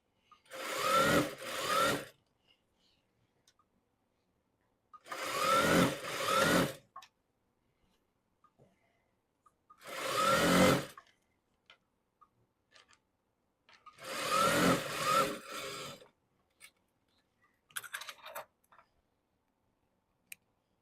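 A sewing machine stitches an elastic-waist stretch skirt in four short, even bursts of whirring separated by quiet pauses, followed by a few faint clicks near the end.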